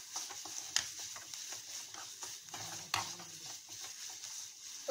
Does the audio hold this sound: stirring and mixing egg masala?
yes